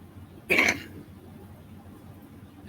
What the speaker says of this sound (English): I do have a cough, probably worse than what Mike is